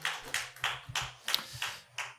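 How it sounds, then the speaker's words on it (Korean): A church congregation at a Wednesday worship service claps together in slow unison, seven or eight distinct sharp claps in a steady rhythm, fairly close and moderately loud with quiet gaps between them. "하나님께 영광의 박수 돌립시다."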